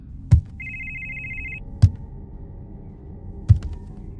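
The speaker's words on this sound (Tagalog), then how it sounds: "Nanggagaling ang ringtone sa bag kong itim." A cellphone ringtone sounds from inside a black bag, one electronic tone lasting about a second, muffled and fairly faint, between three sharp thuds.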